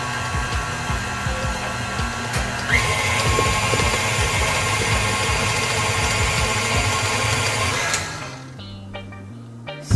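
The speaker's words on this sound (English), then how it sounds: "this is the last time we'll be mixing it" An electric hand mixer whirs steadily through vegan banana bread batter, a loud continuous motor hum with slight pitch shifts, then cuts off near the end leaving quieter background noise.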